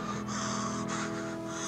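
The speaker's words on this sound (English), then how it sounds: "You gasp for breath." A person gasping for breath after being dragged under by crashing waves at a surf beach, a sharp strained inhale set against a steady dense wash of background noise, with no talk.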